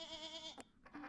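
A sheep bleats in the Plants vs. Zombies 2 video game, a short wavering cry that stops abruptly and is followed by a few soft game sound effects, with no one talking.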